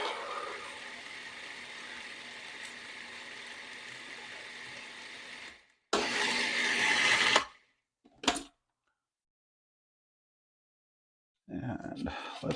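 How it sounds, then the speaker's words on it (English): A food processor grinds cashew nuts for a French lemon tart, a close, loud whirring buzz for several seconds that stops, followed by shorter pulsed bursts separated by silence. "We want these nuts really mixed in there and ground up"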